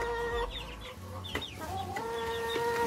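Chickens clucking and squawking close by in a busy run while eating barley, short overlapping calls over a steady rustle of feeding and movement.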